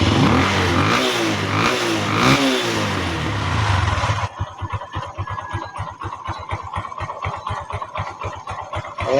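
A motorcycle fitted with a new carburetor warms up, first revving in rising and falling surges, then dropping to a rough, uneven idle with a clear pulsing chug, close and alone with no voices.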